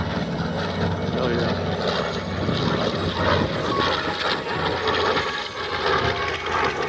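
At the Midland, Texas air show, a propeller airplane flies past with a loud, continuous engine drone that holds steady throughout, while a spectator calls out briefly over it.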